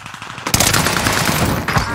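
Rapid bursts of automatic gunfire in Warzone on Rebirth Island, loud and close, starting after a brief quieter moment and continuing densely for over a second.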